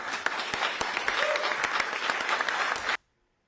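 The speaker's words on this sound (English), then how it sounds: "And what are they clapping for?" Audience applause in a recorded political speech after a government announcement banning social media for children under 16, a steady dense clapping for about three seconds that stops abruptly into silence.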